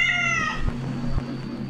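A cat meows once, a clear drawn-out cry close by, followed by a couple of soft low thumps in the background.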